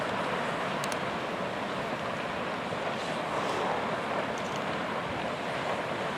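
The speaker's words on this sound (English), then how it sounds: "You just hear it bubbling, boiling everywhere." Hot springs at the Norris Geyser Basin bubble and boil in a broad, continuous hiss and rumble, a steady wash of noise with no clear individual pops and no talking.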